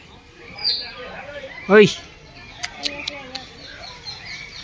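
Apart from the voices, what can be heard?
macaw calling at Vadodara Kamathi Bagh zoo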